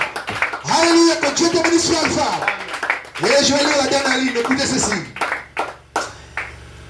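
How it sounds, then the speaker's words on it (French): A church congregation claps loudly and steadily for a long stretch while a preacher speaks and calls out over it, then the clapping fades into scattered claps. "Donnez les acclamations au Seigneur pour le frère Alpha."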